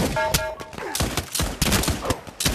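Rapid bursts of shotgun fire in the multiplayer shooter game Pavlov, several sharp close blasts packed into a couple of seconds, with faint voices in the mix.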